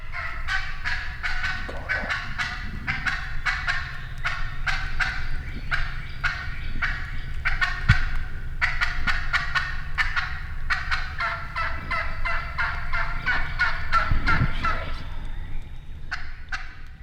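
A wild turkey hen calls loudly and continuously, mixing fast, sharp cutting clucks with runs of rhythmic yelps, close and clear.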